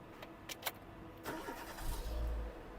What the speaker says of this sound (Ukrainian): запустимо двигун і послухаємо, як він працює